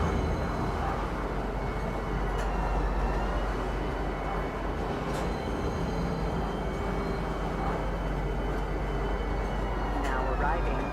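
A metro train in the space game Star Citizen rolls into a station with a steady, loud low rumble and hum that continues throughout.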